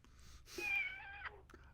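A house cat meows several times in quiet, drawn-out cries with rising and falling pitch, fairly close, with no talk over it.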